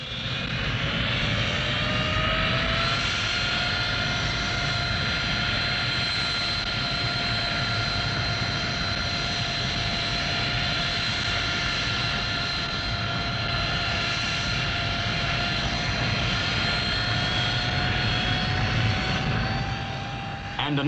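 A jump jet strike aircraft approaching, a loud steady jet roar with a high whine rising in pitch, sustained throughout without any voices.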